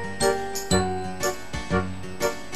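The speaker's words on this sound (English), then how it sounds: "his tinkling bell means he's the happiest little fellow in all Toyland" Small bell on a red and yellow toy car tinkling in a steady repeated jingle, ringing bright strikes over a sustained musical backing.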